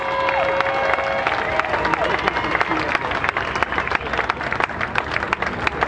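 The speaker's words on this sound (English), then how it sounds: "give all of these young people that made it to the end a round of applause" Audience at a Newark, New Jersey mayoral and municipal council inauguration applauding young city students, a dense, sustained burst of clapping with some cheering, loud and close.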